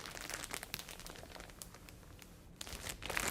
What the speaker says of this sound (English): So this is sealed in a kind of a plastic wrap right here.